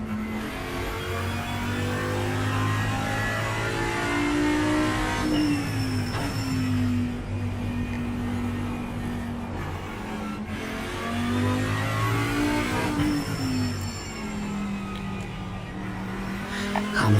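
An Audi GT3 race car in a sim racing game, its engine droning steadily and rising through repeated upshifts, with pitch sweeps on acceleration and braking and occasional tire squeal, heard alone without talk.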